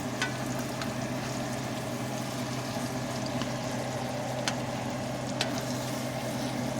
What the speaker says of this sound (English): I've added my sausage to my skillet. I'm going to flip it. I'm going to break it up.